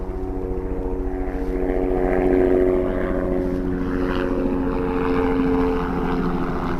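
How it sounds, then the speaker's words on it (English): A steady, loud rotor and engine drone from a helicopter flying overhead, continuous and rumbling throughout with no talking. "so sorry for the helicopter noise"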